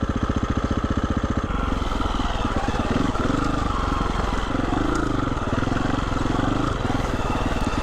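A Husqvarna motorcycle rides off, its engine throbbing in a loud, steady, fast-pulsing drone that holds close and continuous from start to finish.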